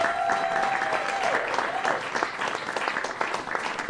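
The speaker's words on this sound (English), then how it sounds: "give them a big round of applause" Steady, sustained applause from an audience at a jazz celebration evening, a dense even patter of many hands clapping throughout.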